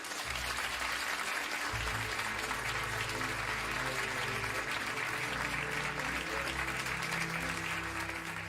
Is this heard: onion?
no